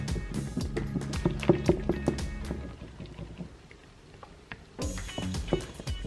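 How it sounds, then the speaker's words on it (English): A whisk clatters rhythmically in a bowl, beating protein powder into plant-based yogurt, with quick close scraping and tapping strokes, a quieter pause midway, then a brief resumed burst. "You really want to whisk this well until all the lumps are gone and it's all nice and smooth"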